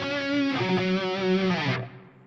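Distorted electric guitar playing a short 80s hair-metal lick, a few bent, sustained notes ringing together for about two seconds, moderately loud and close, then fading out, with no talk.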